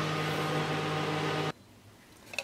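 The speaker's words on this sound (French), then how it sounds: "Donc, deuxième fois que c'est passé au micro-ondes." A microwave oven runs while heating pastry cream, a steady loud hum that cuts off abruptly partway through, leaving near silence before a few faint clicks.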